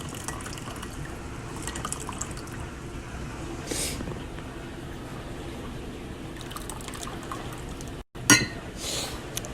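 Water is poured into a Melior pour-over coffee maker in a soft, quiet trickle, with faint clinks and a short, louder splash of liquid near the end.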